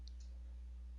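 A computer mouse clicks twice in quick succession, faint and close, over a steady low electrical hum, with no one speaking.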